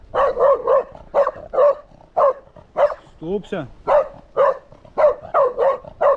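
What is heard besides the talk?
dog barking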